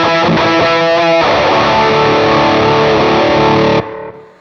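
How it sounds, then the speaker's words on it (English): An electric guitar plays through a tube screamer distortion on a Line 6 Helix, giving a thick, saturated chord that rings loudly, sustains and then cuts off abruptly, with a faint tail. "That's a good representation of a tube screamer."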